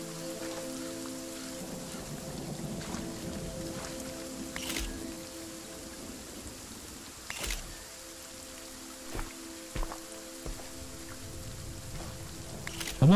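Rain falling in a forest in the horror game Visage, a soft, steady patter on surfaces with scattered louder drops and occasional sharp ticks, faint and continuous throughout.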